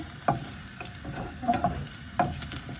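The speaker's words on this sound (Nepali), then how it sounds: "लसुन चाहिँ मजाले डल्लै त्यसरी फ्राई गर्छु।" Something sizzles and fries in a pan, with occasional scraping clicks from stirring at an even, steady pace.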